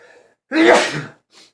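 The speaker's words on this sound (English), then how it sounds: "I don't know if I've ever sneezed on camera before." A single sharp sneeze bursts out loud and close after a faint breath, followed by a brief soft exhale.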